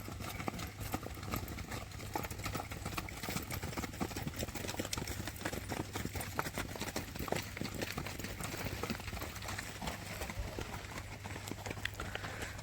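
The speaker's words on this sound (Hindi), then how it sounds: "7 घोड़े अभी पहुंचा है इधर, 2 घोड़े पीछे रह चुके हैं।" Horses arriving at a stud farm event in Kutch, hooves clip-clopping in a steady, busy rhythm over a constant low engine hum, with no talk.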